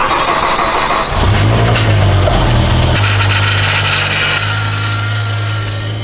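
An abandoned BMW V10 supercar, just reassembled with its battery reconnected, cranks briefly and then fires into a rough, loud idle that holds steady with a slight shift in tone partway through, close by and without talk.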